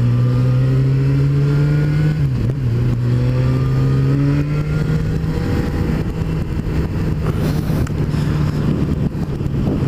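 A Jaguar XJ6 engine revs hard against the rev limiter on arrival in Pinhão, Portugal, with a loud, sustained droning note, a brief dip early on and then a steady hold, while wind rushes over the microphone.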